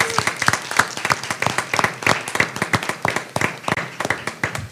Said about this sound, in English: So let's give our participants another round of applause.